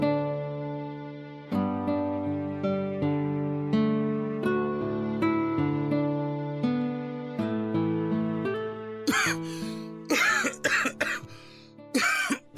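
Music plays for several seconds, then a cluster of harsh, close coughs breaks through near the end, coming in quick repeated bursts.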